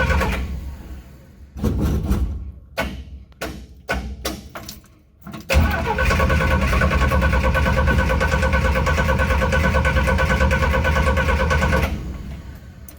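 An engine cranks with the choke on but won't catch. Several short, choppy starter bursts are followed by a long, steady, loud cranking run that fades at the end.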